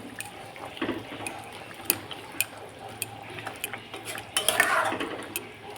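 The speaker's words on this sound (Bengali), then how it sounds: "তাই মাছটা আমি একটু আগে আগেই দিয়ে দিচ্ছি সব মাছগুলোই আমি দিয়ে দিলাম" Tengra fish being added into a simmering cauliflower and potato curry in a home kitchen, with scattered utensil clinks, soft splashes and stirring scrapes against the pot, fairly faint throughout and busier toward the end.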